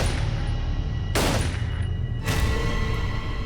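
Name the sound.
gunshots, a hired killer shooting twice at point-blank range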